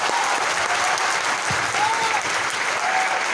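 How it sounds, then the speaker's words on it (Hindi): A motivational-speech audience claps steadily for several seconds, a dense, even wash of applause from a sizeable crowd with no pause. "आपने जोरदार तालियां बजाइए आप।"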